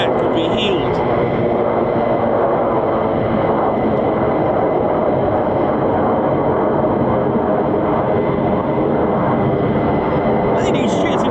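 An F-35 fighter jet roars over RAF Lakenheath, a loud, unbroken rushing thunder that holds steady with no let-up.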